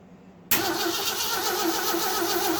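A rebuilt 258 engine in a 1982 Jeep CJ7 cranks and catches abruptly after a half-second of near silence, then settles into a steady, loud, close running drone with no talk.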